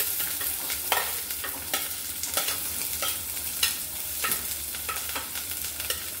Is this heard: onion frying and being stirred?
yes